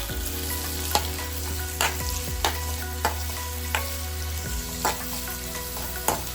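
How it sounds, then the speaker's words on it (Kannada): Onions frying in oil in a pan, a steady loud sizzle close by, punctuated every second or so by stirring knocks and scrapes. "ಚೆನ್ನಾಗಿ ಫ್ರೈ ಮಾಡಬೇಕು ಆನಿಯನ್ ಹಾಕ್ಬಿಟ್ಟು."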